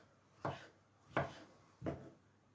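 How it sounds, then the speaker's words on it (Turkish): Three evenly spaced knife strokes chop through peeled tomatoes on a wooden board, each a short, close thud, with quiet gaps between them. "Şöyle ince ince doğrayacağım"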